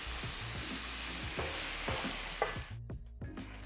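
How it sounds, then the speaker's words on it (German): Gyros meat searing in a frying pan, a steady close sizzle broken by rhythmic scraping stirs from a utensil, briefly quieting near the end. "Der Gyros ist jetzt richtig schön angebraten."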